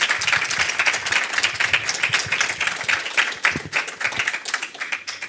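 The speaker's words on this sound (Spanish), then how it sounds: "Un aplauso para ellas, por favor." Audience applause at a cultural talk in Madrid about Mexican legends, for two performers: dense, steady clapping from a seated crowd that stays loud and even for about five seconds.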